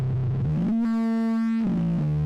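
An LP FET filter module shapes heavily distorted synth tones, a buzzy, hairy sustained pitch that slides and holds steady for about a second before gliding down again, played alone.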